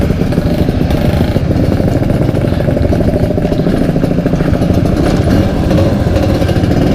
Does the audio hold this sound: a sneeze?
no